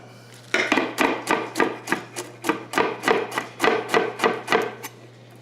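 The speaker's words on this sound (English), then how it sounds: "I'm going to do 1 slice of onion. And 1 green onion." A knife chops steadily through one onion slice and a green onion on a cutting board, about a dozen even, close, crisp knocks in quick rhythm.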